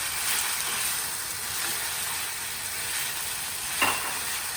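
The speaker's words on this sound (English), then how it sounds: "we want to heat it back up because it cooled down, and we want to mix it together" Japchae is reheated and stirred in a hot pan. A loud, steady sizzle runs throughout, with a brief scrape or clatter near the end.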